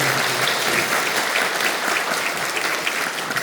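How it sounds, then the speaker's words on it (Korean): Dense, continuous applause fills a church hall as the congregation of Incheon Full Gospel Church claps for the Harmony district choir, a loud, even wash of many hands with no pauses. "하모니 대교구 사랑하며 격려하며 박수 한번 해주시죠."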